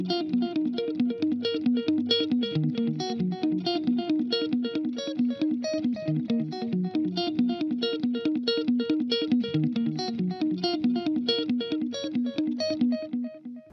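An electric guitar plays through a Friedman amp plugin with a wet, high-feedback delay, the notes repeating in a steady rhythmic pattern of echoes that blend into a dense, continuous picked texture.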